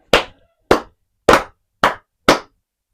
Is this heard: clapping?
yes